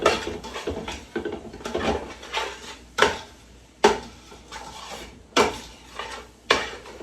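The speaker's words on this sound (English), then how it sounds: "I'm going to give this a stir." A spoon stirring red lentil and black bean chili in a pot, with repeated scraping swishes and sharp knocks of the utensil against the pot's side at an uneven rhythm, close and clear with no talk.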